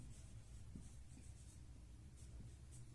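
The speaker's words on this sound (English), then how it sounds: "Now let us write in words area of" Pen or pencil writing on paper during a fifth-grade maths lesson on area and perimeter, a faint, soft, steady scratching with small strokes, no talking.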